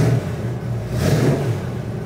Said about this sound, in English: You can rev it up a little.